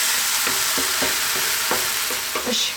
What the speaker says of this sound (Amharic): እንደዚህ እየተጠበሰ ነው።